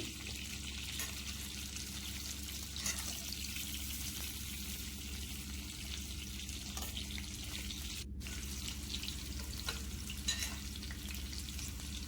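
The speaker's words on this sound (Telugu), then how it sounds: "కట్ చేసి పెట్టుకున్న ఈ కాకరకాయ ముక్కలను పెనంలో కొద్దిగా ఆయిల్ పోసేసుకొని ఈ కాకరకాయ ముక్కలను అయితే బాగా ఫ్రై చేసుకోవాలి" Bitter gourd pieces fry in a little oil in a pan, deep-frying for a bitter gourd onion fry, giving a steady, close, continuous sizzle with faint stirring scrapes and no talk.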